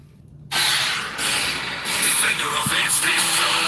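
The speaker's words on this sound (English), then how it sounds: "it's the empty truck" An empty truck at night starts up with a sudden loud hiss like an air brake release, followed by a sustained rushing engine noise that stays loud and continuous.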